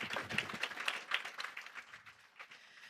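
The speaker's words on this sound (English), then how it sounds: "let's give all of our panelists a round of applause" Conference audience claps for a panel at an opening plenary session, crisp individual claps close by at first, then thinning and fading toward the end.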